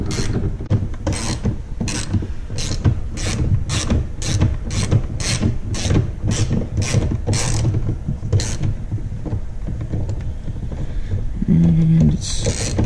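A ratchet wrench loosens nuts during an Aerofabb spoiler extension install on a car, producing a loud, close run of rapid, even clicking strokes that continues steadily throughout.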